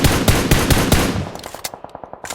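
Gunfire in the video game PUBG: a rapid burst of automatic shots, loud and close, followed by a thinner string of evenly spaced single shots.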